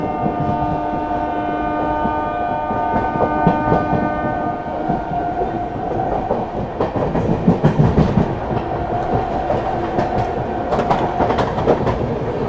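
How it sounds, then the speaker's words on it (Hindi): The Prayagraj–New Delhi Humsafar Express rolls slowly through Govindpuri station without stopping: a steady, close rumble of wheels with rhythmic clickety-clack and a sustained tonal hum, and no voices. "यहाँ पर अपनी ट्रेन स्किप कर रही है गोविंदपुरी"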